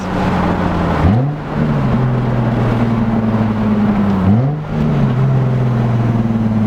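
Car running with no exhaust, close and very loud, revving hard through two quick upshifts, each marked by a brief dip in engine pitch before it climbs again, with no talking.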